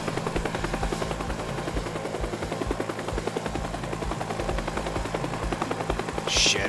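Ghost helicopter from the video game Teardown, a steady pulsing rotor drone with fast rhythmic chopping that runs loud and close through the whole stretch, with a short hissing burst near the end.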